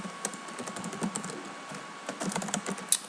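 Quick typing on a computer keyboard, close and moderately quiet, irregular clicks with no talking.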